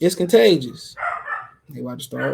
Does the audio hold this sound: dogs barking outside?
yes